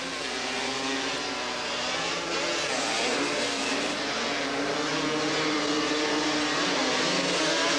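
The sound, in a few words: ATV race engines at the Porterville Grand National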